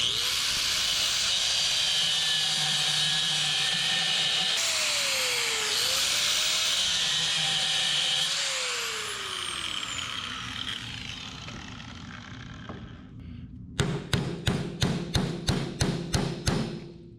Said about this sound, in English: I'm gonna cut into that race a little bit more